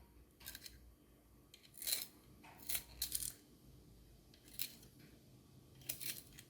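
Drawing pencils being turned in a sharpener, a series of faint, quiet scraping clicks in short irregular bursts, heard alone without speech.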